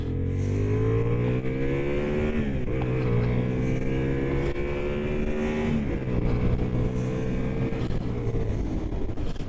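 A 2023 Honda CB750 Hornet motorcycle engine drones steadily while riding, its pitch climbing through the revs with a couple of shifts, loud and continuous under wind noise.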